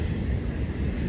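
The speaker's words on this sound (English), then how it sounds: "Can you hear us over the train?" Train passing near an outdoor anniversary rededication ceremony at a literary garden, a dense low rumble with steady rolling noise throughout, loud and close.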